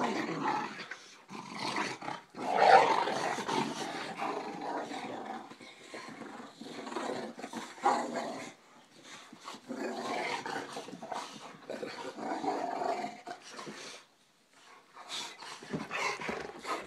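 Two dogs play-fighting first thing in the morning, with bursts of close, loud growling, snarling and panting that keep on with few pauses, no one talking.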